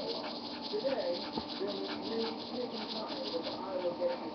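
A game dog in Nintendogs gives short, playful barks and yips that recur over steady background game sounds and music, with someone talking over them.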